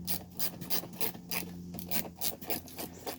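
A screwdriver backs out the speaker screws in the dash of a 1983 Mercedes 300TD, making quick repeated rasping, ratcheting scrapes in a close, steady rhythm.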